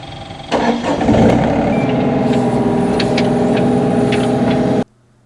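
A rental excavator's engine runs loudly and steadily at close range while digging through concrete, with a sudden rise in level at the start and a few metallic clanks before it cuts off abruptly.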